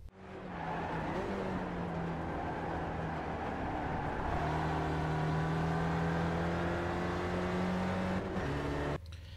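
A Spec Racer Ford (SRF) race car laps the Okayama circuit in the iRacing sim, its engine droning loudly and steadily in sustained harmonic tones that shift pitch with gear changes before cutting off abruptly at the end.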